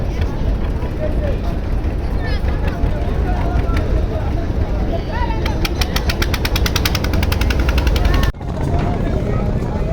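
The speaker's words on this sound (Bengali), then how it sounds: "পারাবাদ এগারো লঞ্চ ব্যাক গিয়ার দিয়েই একেবারে নদীর মাঝে কিন্তু চলে গেল" Passenger launch Parabat 11 on a river, its engine rumbling steadily in reverse gear with a loud, continuous low drone, a rapid pulsing rattle coming in over the last few seconds, with voices talking over it.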